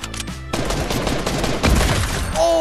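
Gunfire in the Fortnite video game, with sniper rifle shots among a dense spread of loud game sounds: sharp cracks and rapid bursts over a busy, continuous battle background.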